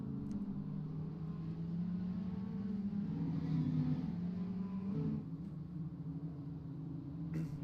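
Dirt rookie mini stock race cars circle Fairbury Speedway under caution in a steady, continuous engine drone, with a low rumbling roar that swells slightly mid-way and never lets up.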